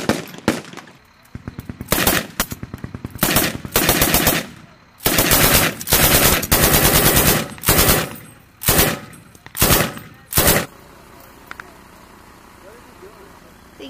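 Machine-gun fire rattles in long, loud automatic bursts during a military field training exercise, pausing briefly between strings before ending, with a quiet outdoor stretch at the close. People talk in between.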